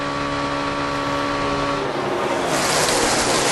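NASCAR stock cars race at Talladega, a steady, dense engine roar that swells into a broader, brighter rush as the pack passes near.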